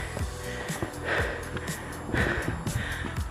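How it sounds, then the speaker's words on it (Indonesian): Heavy, ragged breathing from a hiker climbing uphill on a mountain trail, close and fairly quiet, with rhythmic gasps and snorting exhales repeating every second or so. "Udah ngos-ngosan."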